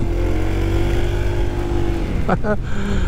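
Honda PCX 160 scooter, 2025 model, droning smoothly while ridden, a steady low engine hum and wind rumble, briefly joined by a short voice near the end.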